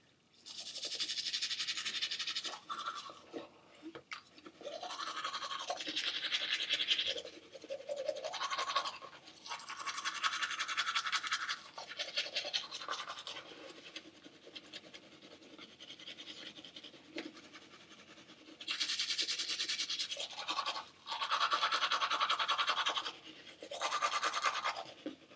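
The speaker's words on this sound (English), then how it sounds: "All right, and we begin brushing." Steady brushing of teeth with a toothbrush and foam in the mouth, close and quiet, heard as repeated scrubbing bursts separated by brief pauses, with no talk.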